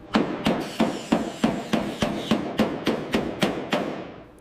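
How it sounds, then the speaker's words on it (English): Steady, evenly spaced hammer blows on sheet metal, about a dozen ringing strikes close up, with no talking, reshaping the body panels of a Plymouth Barracuda under restoration. "Listen to the rhythm of the hammer."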